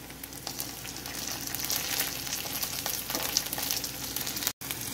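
Close, continuous sizzling and crackling from a pan while wheat rava upma is cooked. Light stirring scrapes come through, and it cuts out briefly near the end.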